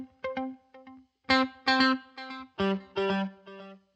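Electric guitar played in short plucked notes through a delay pedal with modulation, each note trailing warbling, vintage-digital echo repeats, clear and up close with no voices.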